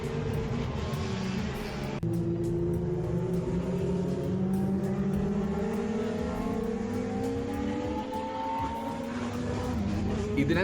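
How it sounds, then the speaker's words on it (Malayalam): Go-karts run laps on a 1.5 km circuit at a large karting track, engines droning and rising in pitch as they pass, steady and fairly loud throughout with a sharp shift near two seconds; a voice may be faintly present. "അതിൽ ലാപ്പുകൾ അനുസരിച്ച് നമുക്ക് കാർട്ട് ഡ്രൈവ് ചെയ്യാം."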